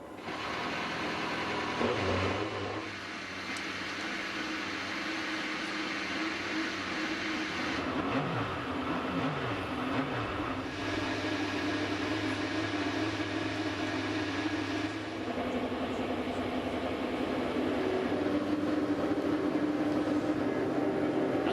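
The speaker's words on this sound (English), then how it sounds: "the engines have fired" IndyCar race car engines, 2005 season at Fontana, fire up on the starting grid into a loud, steady mechanical drone, with pitch sweeps from revving partway through and layered engine tones throughout.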